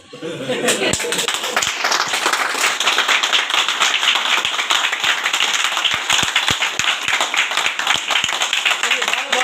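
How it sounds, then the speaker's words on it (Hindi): An audience at a business meeting in a hall claps loudly and steadily for several seconds, a dense, sustained wash of many hands with occasional sharper individual claps standing out. "अगर आप चाहते हैं कि मतलब ताली बजाएं तो जबरदस्त बजाएं"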